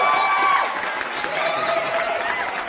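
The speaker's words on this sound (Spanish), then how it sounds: "aplauso por favor." An audience applauds and cheers for the author José Agustín Solórzano at a Librósfera book event, a dense, steady wash of clapping with whoops running throughout.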